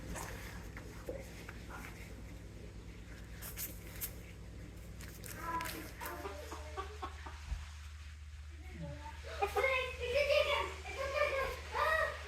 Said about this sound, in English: That poor chicken.